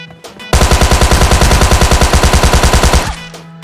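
A bot fires a sustained burst of automatic gunfire in PUBG Mobile Lite, loud rapid rhythmic shots lasting about two and a half seconds, close and dominant with no talk over it.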